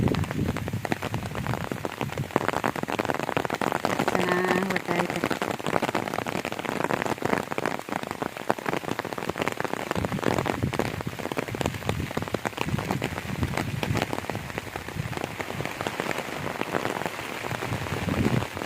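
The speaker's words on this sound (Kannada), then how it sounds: "ಮಳೆ ಬರ್ತಾ ಇದೆ" Steady, dense rain falls on surfaces in a village, a close and continuous patter that stays even for the whole stretch with no voices over it.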